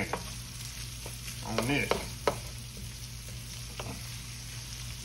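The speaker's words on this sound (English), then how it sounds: "So we're going to get our onions cooked up in there with this bacon" Bacon and chopped onions fry together in a pan with a steady low sizzle, broken by a few sharp scraping and stirring clicks near the middle; a brief murmur of speech is barely audible.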